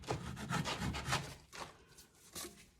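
Bath bomb mix is scraped flat across the top of a mold, giving a few short gritty rubbing strokes close up, followed by a quieter pause and one last brief scrape.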